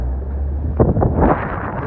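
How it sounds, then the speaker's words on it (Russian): Strong outdoor wind buffets the microphone, making a loud, low rumbling roar that surges into a harsher gust near the middle before easing back to a steady blow. "сегодня ветер сильный очень."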